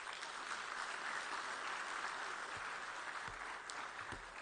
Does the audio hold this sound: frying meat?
no